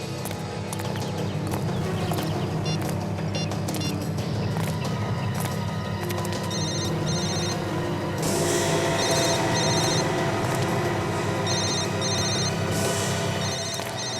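Mobile phone ringtone trilling in repeated bursts within a busy, noisy indoor scene, the ringing grows louder partway through, with no clear talking over it.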